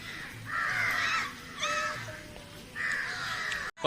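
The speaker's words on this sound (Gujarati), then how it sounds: "હમણાં ઓલા ગાંઠિયા નાખ્યા ને કેટલા કાગડા આવ્યા તો ખાવા" Several crows caw in loud, harsh bursts, coming in three clustered waves, gathered outdoors near a temple area where fried gram-flour snacks have been tossed to them.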